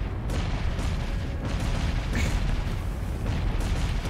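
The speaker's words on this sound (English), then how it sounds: "Oh boy, so much explosion." Explosions in the video game Gunfire Reborn rumble as a continuous, heavy booming barrage with low, dense blasts and a few brighter bursts, loud and unbroken throughout.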